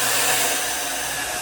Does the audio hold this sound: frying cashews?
no